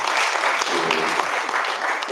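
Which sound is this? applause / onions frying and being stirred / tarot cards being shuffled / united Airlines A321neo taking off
applause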